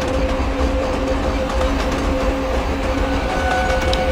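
A simulated passenger train in Microsoft Train Simulator, a Kanpur–Tundla fast passenger service, runs on the tracks with a steady, continuous rumble and a faint sustained tonal hum, with no speech.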